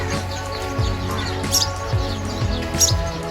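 Small birds chirping from nests in the ceiling of a guest room built of wooden beams at a cow shelter pilgrimage site in Sanchor, Rajasthan, with clear repeated tweets and short calls over a steady background hum.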